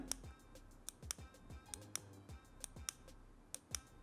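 Side button on a cheap multi-mode camping lantern clicked repeatedly, a string of sharp, close, quiet plastic clicks in an uneven rhythm with no talking.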